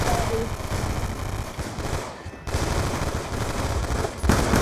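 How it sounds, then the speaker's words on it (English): Rapid bursts of automatic gunfire from Black Ops 2 on the Nuketown map, dense and continuous with a short pause midway, loud in the foreground. "I'm shooting at it, guys."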